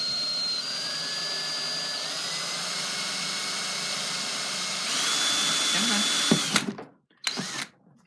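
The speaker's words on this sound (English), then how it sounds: "So you're just going to take the drill, going to place it against the side like so." A power drill bores ventilation holes into the side of a plastic mini-greenhouse, a loud, steady whining motor drone close by that rises in pitch partway through, then stops abruptly and gives a short final burst.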